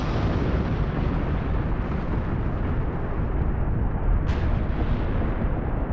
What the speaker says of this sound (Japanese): 噴火が発生した